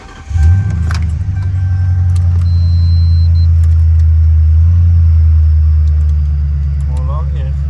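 An Audi RS7 holds a steady rev near 2000 rpm, a loud continuous low engine drone, with a brief AC compressor clunk near the start and light clicks over it.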